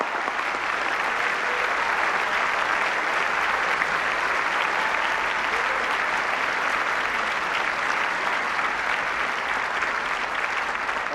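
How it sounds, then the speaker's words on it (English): Sustained, dense applause from a large formal-dinner audience at the White House Correspondents' Dinner, a steady roar of many hands clapping at even loudness for about eleven seconds. "Please give them a big round of applause."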